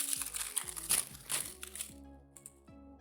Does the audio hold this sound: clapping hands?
no